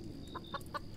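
A chicken in the Roblox game Consume gives a quick run of soft, evenly spaced clucks, four short calls in about a second, faint over low background noise.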